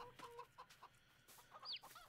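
Chickens at the chicken farm in Farming Simulator 22, a few soft clucks and a short higher squawk over quiet game ambience, fairly close and faint.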